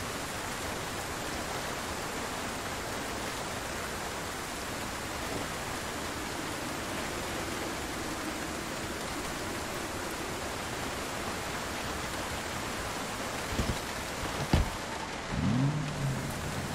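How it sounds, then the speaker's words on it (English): Heavy rain in the video game Project Zomboid pours as a dense, steady hiss, with a few faint thumps and clicks near the end. "Oh my god, the rain is so loud."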